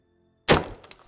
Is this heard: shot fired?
yes